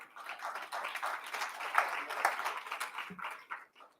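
Light, fairly distant applause from a youth summit audience, a modest patter of clapping that rises and fades unevenly before dying out.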